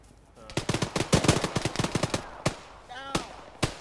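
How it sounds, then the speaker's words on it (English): Gunfire in the Arma 3 military game: rapid bursts of automatic fire crackling close and loud, then a few spaced single shots, with a faint voice briefly heard in the gap. "We just took shots from just inside the wall, I believe."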